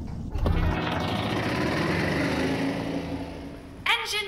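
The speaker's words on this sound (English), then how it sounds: "Engine running." Escape pod engine running in the video game I Expect You to Die, a steady mechanical drone that holds evenly for several seconds before a short bright burst near the end.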